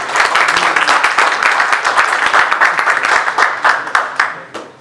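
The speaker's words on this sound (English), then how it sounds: "Let's give him a big round of applause." A room audience at a real estate company meeting applauds a speaker from a mortgage firm, with dense, steady clapping that holds loud throughout and begins to thin out toward the end.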